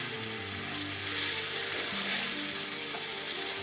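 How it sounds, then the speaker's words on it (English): Shrimp frying in a hot pan give off a steady, loud, bright sizzle that holds throughout with no talking. "The shrimp should cook really quickly."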